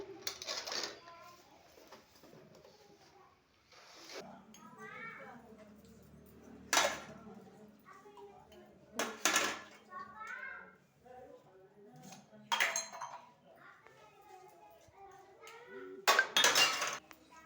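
Dishes and utensils being washed in a home kitchen, with scattered clinks and clatters of pots and cutlery at irregular intervals, fairly close, alongside intermittent voices including a child's.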